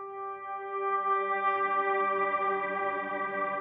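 A single sustained synthesizer note holds steady and dry, rich in even harmonics, its tone shifting slightly brighter halfway through.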